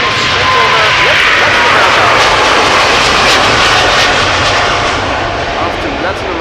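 KLM Asia airliner taking off at Amsterdam Schiphol, a loud, close jet engine roar sustained throughout with a slight easing at the end, while a voice talks over it.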